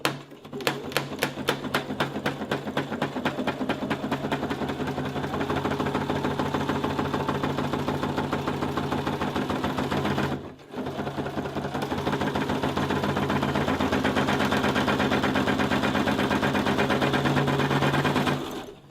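Sewing machine stitching half-sized trims for pool table pocket cloth, starting with quick rapid clacking strokes, then running in a steady loud mechanical whir, pausing briefly midway and resuming at a constant pace.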